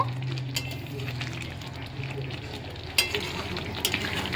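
Potatoes frying in a pan for Kashmiri aloo dum, a steady close sizzle with occasional stirring clinks against the pot.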